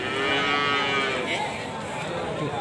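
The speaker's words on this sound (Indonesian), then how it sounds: "Ini juga ada sapi jenis pegon." Cattle at a cow market in Kragan low and moo in a long, steady bellow, fairly close and loud over a busy background.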